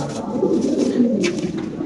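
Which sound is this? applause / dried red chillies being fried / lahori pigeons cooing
lahori pigeons cooing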